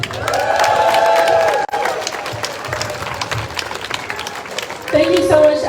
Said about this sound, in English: Everybody, if you want to cheer for Hannah.